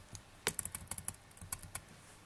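Computer keyboard typing while text is entered in an editing app: a quick run of crisp, irregular key clicks at close range, fairly quiet, with no talking.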